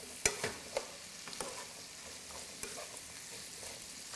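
Garlic sautés quietly in a pan, a faint soft sizzle broken by a few brief clicks and scrapes of stirring, with no one speaking.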